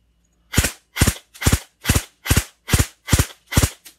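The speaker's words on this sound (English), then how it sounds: "It's shooting 2 rounds." An airsoft gun fires sharp, close, loud pops in evenly spaced pairs, eight shots in a steady rhythm with silence between them, alone without talk.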